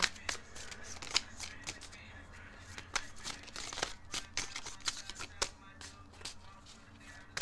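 Tarot cards shuffled by hand for a love reading, a close, quiet run of riffling flicks and soft slaps in irregular bursts, with faint background murmur.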